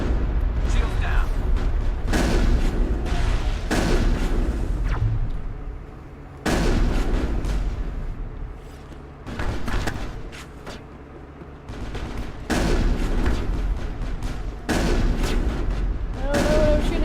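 Mass Effect firefight against Geth, with repeated bursts of loud gunfire and heavy booming shots in rapid clusters, broken by brief quieter gaps.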